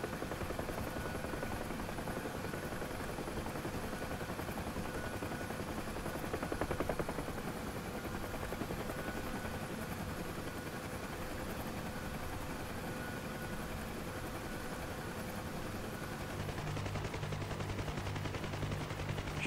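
A helicopter in the flight simulator DCS World, hovering near a moving carrier in low visibility, with a loud, steady rotor and engine drone and a rapid chopping texture throughout, without a break.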